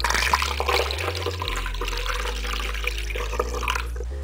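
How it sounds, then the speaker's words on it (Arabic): A water mixture pours through a funnel into a bottle, a steady close splash and gurgle lasting a few seconds without talk. "ونحتاجوا لهذا اللي كيدوز الماء نديرو هنا، وغادي نخوي هذاك الخليط ديال الماء"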